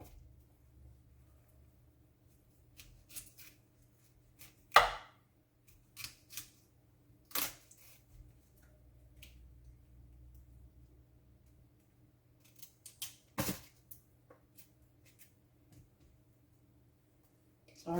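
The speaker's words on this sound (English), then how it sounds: "All I'm doing is cutting the stem off." Scissors snip the stems off washed salad greens into a bowl, a series of sharp, close clicks and cuts spaced irregularly over a quiet background.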